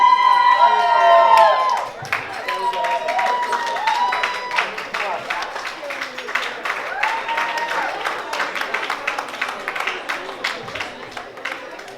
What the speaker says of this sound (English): How about a big round of applause, please?